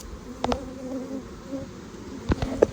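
Honey bees buzzing at an open hive during a queen-marking inspection, a steady close drone with a few sharp clicks of handling.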